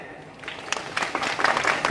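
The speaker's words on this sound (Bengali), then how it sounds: "জাজের জন্য একটি তালি চাই।" An audience at a Jaaz Multimedia film trailer event breaks into applause, with clapping starting quietly and then growing denser and louder over two seconds.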